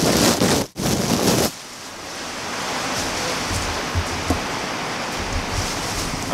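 Steady hiss of rain falling in a Home Depot parking lot, broadband and constant, with a few soft low thumps and a louder rustling burst at the start.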